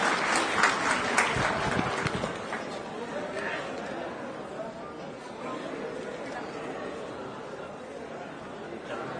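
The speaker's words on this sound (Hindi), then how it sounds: "उनको आने के पहले उनको जोरदार तालियों से स्वागत करें" Applause from the audience at a party state office event in Bihar rises briefly at the start, then fades into a murmur of crowd chatter.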